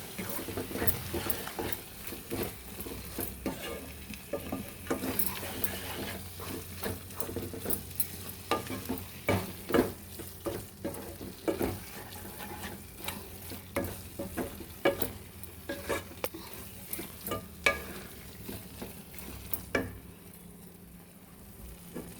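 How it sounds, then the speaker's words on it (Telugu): Spinach and onion chili masala are mixed together in a sizzling frying pan, a steady fry under constant rhythmic scraping and stirring strokes with scattered clicks of the utensil, heard close up and without speech. "కలిపేసుకోవాలి మనం పాలకూరకు అంతా పట్టేటట్టు"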